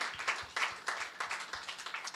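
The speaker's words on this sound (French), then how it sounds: "give the Lord a clap of praise" A church congregation claps together in praise, a brisk run of roughly three claps a second, rhythmic and moderately close.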